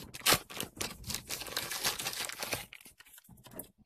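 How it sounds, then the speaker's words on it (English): A plastic mail package being cut open, close crinkling and tearing of plastic with irregular crunchy bursts that thin out toward the end, with no talk. "So again, I'm gonna cut it."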